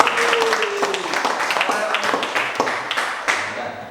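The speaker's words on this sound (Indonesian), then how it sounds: "kasih tepuk tangan untuk Prof." A class gives a round of applause for a professor after a group presentation, with crisp individual claps from a modest group that taper off toward the end. A voice is heard briefly at the start.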